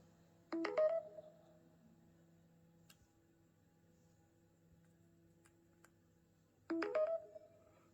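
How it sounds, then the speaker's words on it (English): The default Samsung Galaxy S23 Ultra charging sound, a short electronic chime, plays twice, several seconds apart, each a quick rising cluster of bright tones over near silence. "This is the default charging sound."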